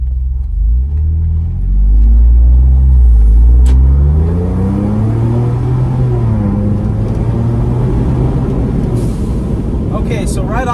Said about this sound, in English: So now I'm gonna go ahead and just take it down the road.